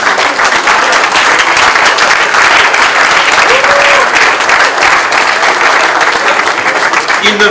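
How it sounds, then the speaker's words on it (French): Loud, steady crowd applause at a public gathering, dense continuous clapping from a large audience sustained for several seconds, with a brief voice-like tone rising through the middle. "Il faut applaudir Moïse."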